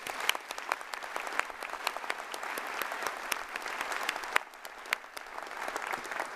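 Audience applause at a law school commencement ceremony: a sustained, fairly faint patter of many hands clapping continuously, with a brief dip partway through, and no voices over it.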